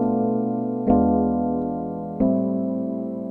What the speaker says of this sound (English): So a typical minor 2-5-1 is gonna sound like this.